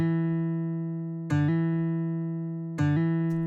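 Sequenced acoustic guitar sample played mono with last note priority, a sustained plucked tone retriggered twice in steady succession, each attack sharp and cutting off the previous ring.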